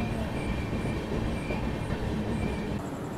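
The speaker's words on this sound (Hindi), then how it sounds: "महाबोधि एक्सप्रेस पहुंच चुकी है अभी यहाँ पर भभुआ रोड" Mahabodhi Express train pulling into Bhabua Road, a small four-platform station in Bihar, India: a steady, loud rumble of rolling railcars fills the scene throughout, with faint high squeals and clatter over it.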